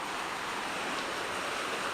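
Video game river water rushing steadily near a shack and waste treatment plant, a continuous broadband wash of flowing water at close range with no talking over it.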